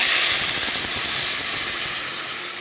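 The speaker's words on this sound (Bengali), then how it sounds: "গরম জল ঢেলে দিচ্ছি" Hot water poured into frying chicken masala in a pan, a loud, bright steaming hiss and sizzle that gradually fades as the water settles.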